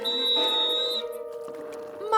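A sharp, shrill whistle blast in the video game PRIM, held steady for about a second before trailing off, with faint game sounds lingering after.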